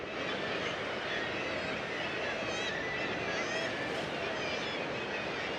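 Gulls call back and forth along the coast at St Abbs, faint wavering cries scattered over a steady wash of wind and sea noise, distant and continuous.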